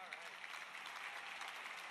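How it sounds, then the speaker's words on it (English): Faint, even applause at a memorial service in Chicago, a soft continuous wash of clapping with a voice underneath. "Give her a big round of applause."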